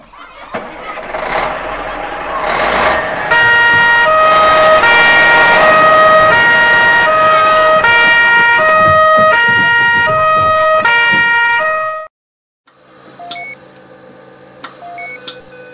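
A two-tone ambulance siren wails loudly, alternating steadily between high and low pitches for several seconds, then cuts out and returns fainter with a few beeps.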